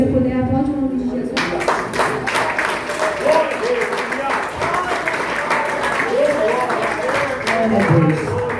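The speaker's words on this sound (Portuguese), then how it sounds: "Se você puder, aplaude o nome de Jesus." Congregation at a church service claps together after a sermon, a steady broadband wash of applause that swells in and continues throughout, with voices and music underneath.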